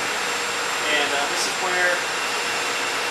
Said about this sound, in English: This is forward VCHT or vacuum collection and holding tank,